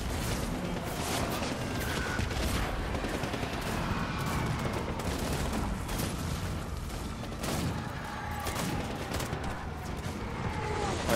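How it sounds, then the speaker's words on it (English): Heavy gunfire from a tank in the video game Death Stranding, a dense continuous barrage of shots and blasts with rumbling mechanical noise throughout, loud and unbroken. "I don't know what is shooting at me. Oh, it's a tank."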